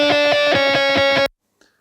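Dry, unprocessed synth lead plays a quick repeated rhythmic figure of sustained bright tones, loud and alone, stopping abruptly with a faint trailing sound after.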